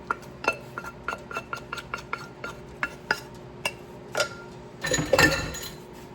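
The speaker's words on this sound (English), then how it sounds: "So now we're going to put our cooked noodles in here." Cooked noodles go into a metal pot, with a quick series of close clinks and taps of utensil on pot, then a louder clattering rustle near the end.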